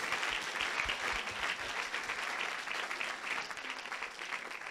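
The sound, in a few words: audience applause at church service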